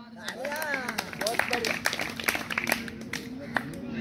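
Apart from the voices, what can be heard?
applause, clapping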